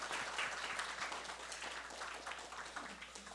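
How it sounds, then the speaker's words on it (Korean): Church worshippers give a round of applause to God after a choir's hymn, a soft, fairly distant patter of many hands that holds steady without voices. "우리 하나님께 영광의 박수를 다시 한번 돌려드립시다."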